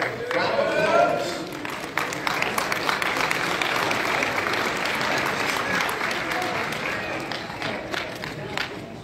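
An indoor crowd at a Hot Wheels collectors' convention finale claps loudly and steadily for about nine seconds, the dense applause tapering slightly toward the end.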